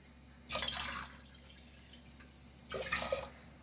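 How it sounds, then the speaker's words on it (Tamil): Water poured into soaked black kavuni rice for payasam in two distinct splashing pours, the second starting after a short quiet gap, close and clear. "மூணு டம்ளர் தண்ணி ஊற்றி"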